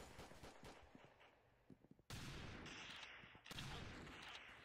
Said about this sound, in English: this is one of the jumpy shotguns